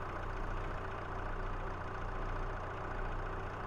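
Steady low engine idle from a farm vehicle in Farming Simulator, set in Alma, Missouri, running continuously at moderate level with a constant hum and no speech.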